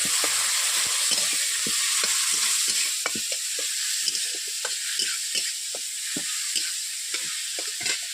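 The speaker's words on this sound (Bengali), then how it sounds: "তেলটা গরম হয়ে গেছে, ওর মধ্যে আমি দিয়ে দিচ্ছি কাঁচা লঙ্কা কুচো আর দিয়ে দিচ্ছি পেঁয়াজ কুচো" Chopped green chilli, onion and tomato with mustard paste sizzle steadily in hot oil, with frequent sharp scraping clicks from a spatula stirring the pan at close range.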